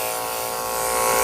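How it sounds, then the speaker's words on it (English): Electric clippers shaving the belly of a Shih Tzu: a steady, close, continuous buzzing hum that holds level for the whole moment, with no talk over it. "The whole belly I'm shaving out too"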